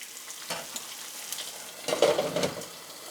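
Eggs fry sunny side up in a non-stick pan with extra virgin olive oil, a soft close sizzle with a couple of louder bursts of spattering around the middle, no talking.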